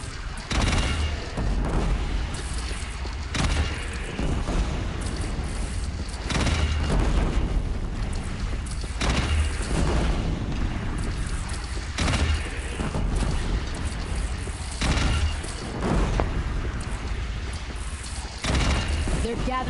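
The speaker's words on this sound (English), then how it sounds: "They only have one cannon!" Deep cannon booms go off repeatedly every couple of seconds amid a noisy battle in the video game Horizon Zero Dawn, with people shouting and talking over the blasts.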